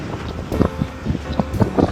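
Strong, cold wind buffets the microphone outdoors, a rough, gusty rumble with uneven bursts swelling and fading close to the mic.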